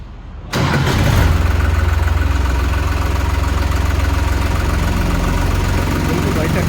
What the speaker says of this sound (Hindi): एक बार मैं ट्रैक्टर स्टार्ट करके भी दिखाऊंगा